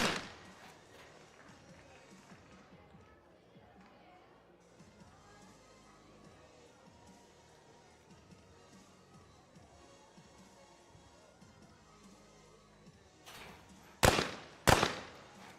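Two sharp, loud shotgun blasts ring out close together near the end of a men's skeet shooting final, following a long stretch of low arena ambience and faint crowd murmur.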